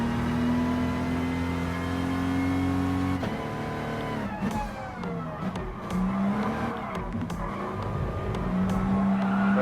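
Race cars from Gran Turismo Sport, including a Porsche 911 GT3 (996), a BMW M4 and a classic Jaguar E-Type, drone with steady engine tones, then downshift and squeal their tires through corners, loud and continuous.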